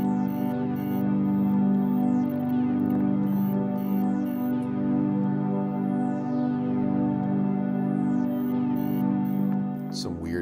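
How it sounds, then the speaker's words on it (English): Glitchy synthesizer sequence loops steadily while a filter sweeps down repeatedly, producing falling, chirpy digital artifacts over a sustained drone. "filter goes down below, it gives that glitchy sound like this."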